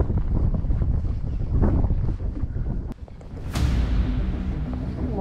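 Wind gusts buffet a fishing boat on open water, a steady rushing roar with a brief lull midway before swelling again, close and continuous with no talk.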